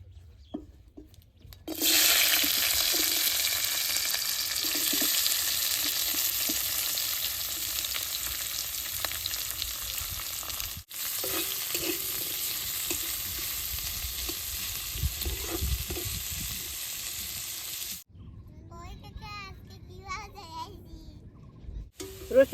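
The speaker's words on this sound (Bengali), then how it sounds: "আর অল্প তেল দিয়ে রসুন পেঁয়াজ মরিচ একবারে বাইজে নেব।" Garlic, onion and green chili fry in a little oil with a steady, close hiss that holds for most of the stretch, interrupted briefly once, then cuts off abruptly near the end.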